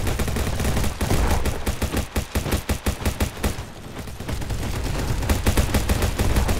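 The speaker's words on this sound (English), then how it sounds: "People are using guns like mad." Rapid bursts of automatic gunfire from a Roblox Bad Business firefight, loud and dense, with a short lull midway before the shooting resumes steadily.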